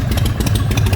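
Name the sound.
cold Shovelhead motorcycle engine running lumpy, no air filter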